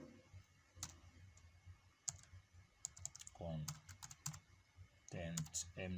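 Bursts of computer keyboard typing while entering CSS flexbox code, clicking keys in short irregular runs separated by pauses, close and moderately loud, with a person's voice mixed in at times.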